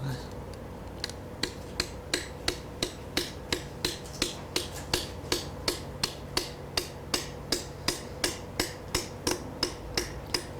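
Metal being hammered during shell forming: a steady run of about thirty sharp, crisp blows spaced evenly, close and clear over a faint low background hum.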